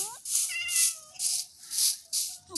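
A cat in the video game Minecraft meows again and again in short, insistent calls, close and clear, with bursts of hissy noise between them.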